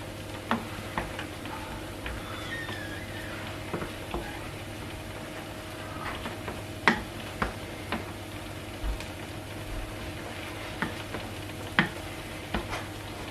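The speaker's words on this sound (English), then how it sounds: "I'm just giving it a quick stir" A spoon scrapes and taps through a pot of jollof tomato rice, with light sizzling under a handful of scattered clicks and knocks; no one talks.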